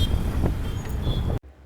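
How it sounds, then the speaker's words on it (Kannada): Strong wind blows outdoors outside a supermarket, rumbling as a loud, continuous buffeting on the microphone that ends abruptly. "ಎಷ್ಟು ಗಾಳಿ ಇದೆ."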